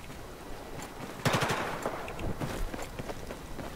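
Machine gun fire in a Battlefield video game: a sudden loud burst of rapid shots, then scattered quieter rounds and shuffling footsteps in the background.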